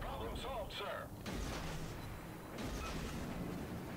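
Naval guns fire and shells strike in a World of Warships battle with a Minekaze destroyer, a dense stretch of booming blasts and crackling impacts running under a steady game soundscape.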